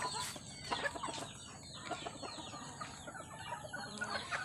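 Chickens cluck busily while being fed, a flock of hens and roosters giving many short overlapping clucks and calls at close range, quiet and continuous without talk.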